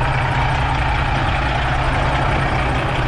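A 1998 International cabover truck with a flat-floor Pro sleeper cab idles with a deep, steady diesel rumble, loud and close, and no voices.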